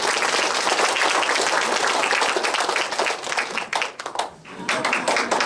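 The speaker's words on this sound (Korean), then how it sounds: "여러분 다시 한번 박수로 환영해 주십시오." An audience at a humanities lecture at a Daejeon Dong-gu cultural center applauds to welcome a foreign ministry official. Dense, loud clapping fills the room for over five seconds and thins briefly near the end.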